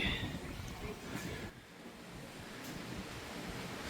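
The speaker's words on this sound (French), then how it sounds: "de train, métro, peu importe comment on appelle ça" Steady, noisy rumble of a Brooklyn subway train in motion, broad and droning with faint rattles, recorded from inside the car.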